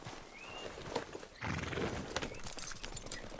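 A horse in the video game Red Dead Redemption II, its hooves clip-clopping steadily at close range with a brief whinny, moderately faint and with no talking.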